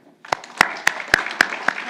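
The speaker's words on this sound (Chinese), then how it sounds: "现在，让我们以最热烈的掌声欢迎" Audience at a Taiwanese campaign rally applauds the arrival of vice-presidential candidate Hsiao Bi-khim. The clapping swells from silence into steady crowd noise, with sharp loud claps punctuating it at a roughly even rhythm.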